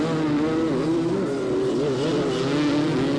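Honda three-wheelers racing at a 1985 AMA national race in Miami, a loud continuous engine whine with pitch sweeping up and down as the machines accelerate and shift, steady and dense throughout.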